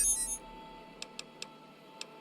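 Robot companion in Fallout: New Vegas emitting four short electronic beeps at uneven intervals after a brief burst of noise, crisp and fairly quiet against a low hum.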